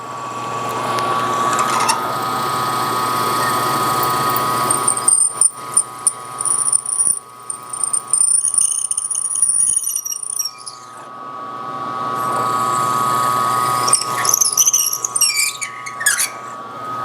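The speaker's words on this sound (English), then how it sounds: "I'll drill a couple of them" Drilling of metal cylinder barrels for a five-cylinder radial engine: a steady machine whine with a shrill, squealing cutting tone that comes and goes, broken by clanks and handling noises between passes.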